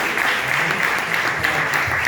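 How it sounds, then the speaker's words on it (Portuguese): A church congregation applauding, loud and dense clapping that fills the space without a break, with voices faintly mixed in. "Você pode aplaudir o Senhor Jesus?"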